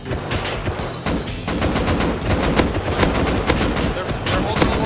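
Rapid bursts of automatic gunfire in the survival game Rust, loud and continuous with repeated sharp shots in clusters over a dense wash of noise and a player's voice talking.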